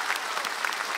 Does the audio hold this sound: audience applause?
yes